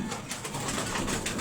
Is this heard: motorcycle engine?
no